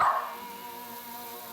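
Elvis the dog lets out a single short bark at the very start, fairly close, before the sound fades into a quiet room tone.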